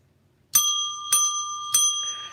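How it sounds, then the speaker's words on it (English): A bell rings three times at a steady pace, each strike bright and ringing with a sustained metallic tone, close and clear with no talk over it. "Ring that bell."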